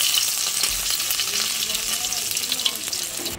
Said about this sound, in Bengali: মাছটা তুলে রেখে দিয়েছিলাম অল্প করে ভাজা, তো আর একটুখানি ভেজে নিয়ে যাই নিচে